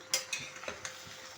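Beef biryani rice being gently mixed in a pot, a few soft scraping clinks of a utensil against the metal, close and quiet, spaced irregularly over a brief moment.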